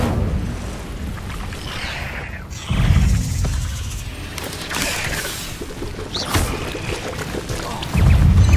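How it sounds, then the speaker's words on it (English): An Incendio fire spell cast in the video game Hogwarts Legacy, heard as repeated whooshing, crackling bursts with low booming impacts amid busy combat noise, loud and close. "Incendio!"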